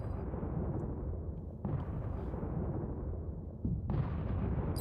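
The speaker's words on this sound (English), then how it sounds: "Sounds like explosions in the background." Deep, rumbling explosions like bombs going off in the background, a continuous low roar with two sudden louder bursts, no voices.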